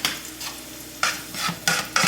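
Pepper steak meat sizzles in a skillet while it is stirred. Each stroke of the spatula pushes up a bright surge of frying hiss, with about four or five close strokes over a soft steady crackle.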